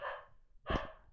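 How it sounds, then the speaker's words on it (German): A dog barks a couple of times in the background, faint and distant, heard after a brief breathy sound in a quiet room. "Wir haben einen bellenden Hund im Hintergrund."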